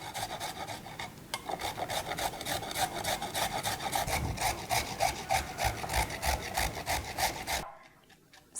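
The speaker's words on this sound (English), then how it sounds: "First, I'm going to grate the carrot." A peeled carrot rubbed against a grater, giving a loud, rhythmic rasping scrape of repeated strokes that runs for several seconds and then stops abruptly.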